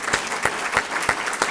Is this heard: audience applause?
yes